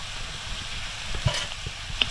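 Onions softened in a pan on a wood-fired stove sizzle steadily as tomatoes join them, a close, even frying hiss with a couple of faint clicks from the pan.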